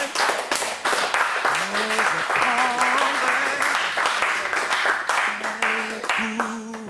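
A church congregation applauding the Lord: loud, dense clapping fills the room throughout, with voices cheering and calling over it.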